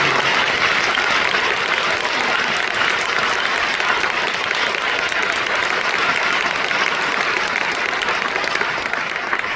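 Sustained, dense applause from a church audience at a lecture by a documentary film director, a loud steady wash of many hands clapping without pause throughout.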